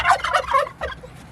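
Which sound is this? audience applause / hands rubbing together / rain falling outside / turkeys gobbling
turkeys gobbling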